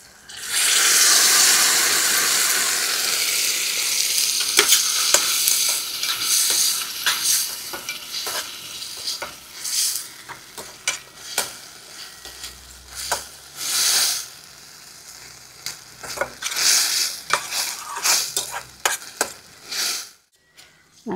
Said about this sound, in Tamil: அதோட அரைச்சி வச்ச மசாலாவை ஊற்றிடுவோம்.